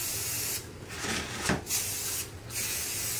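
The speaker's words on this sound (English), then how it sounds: "We're just going to take a brown spray paint and we're just going to lightly spray the edges." Brown spray paint hisses from an aerosol can in short close bursts onto the edges of a wooden cross, with brief pauses between passes.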